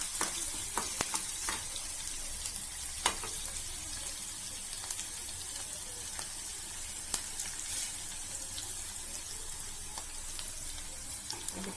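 Chopped ginger fries in hot oil in a home kitchen while stuffed bread pakoda is prepared, with a steady low sizzle and scattered sharp crackles and pops throughout, moderately quiet and with no talking.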